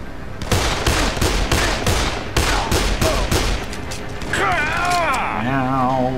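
Rapid gunfire in Dead Island, a fast rhythmic burst of close, loud shots for about four seconds, followed by a whirring mechanical sound, with players talking over it.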